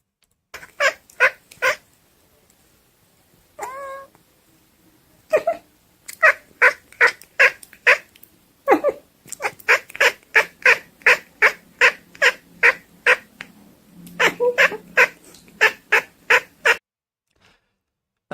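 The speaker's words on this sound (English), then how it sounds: "That is a very nice kitty." A cat meows over and over in short, even bursts, close and fairly loud, with brief pauses between runs of calls.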